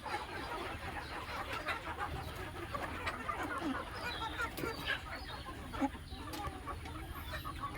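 A flock of two- to three-month-old chickens clucks and murmurs continuously at moderate distance during rain, with scattered soft calls over a steady background hiss.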